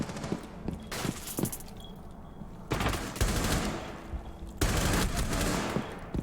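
Rapid automatic gunfire in Rainbow Six Siege, several bursts of crackling shots from close by, separated by short pauses with faint footsteps, and no voices.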